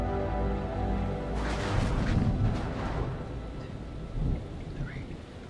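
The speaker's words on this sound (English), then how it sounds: "You hear thunder and you count" Heavy thunder rolls through a storm in the video game Man of Medan, a deep rumble that builds over several seconds with rain beneath, loud and sustained, no voices.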